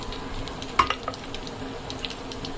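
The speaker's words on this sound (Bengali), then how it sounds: "এক পাশ হয়ে গিয়েছে মিডিয়াম আছে আর কি এটাকে ভেজে নিচ্ছে" Eggplant slices fry in a pan alongside cheese balls and fried chicken. A steady, close sizzle crackles throughout, with a few small clinks or pops, and no one speaks.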